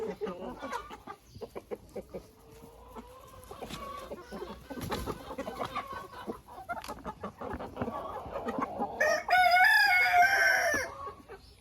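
Chickens and turkeys in a poultry yard feeding on nettles, with steady close clucking and scattered calls throughout and a loud rooster crow near the end; no talking.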